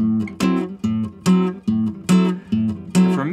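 Soft nylon-string guitar chords brushed with single index-finger downstrokes in gypsy jazz style, evenly spaced, warm and close, played alone.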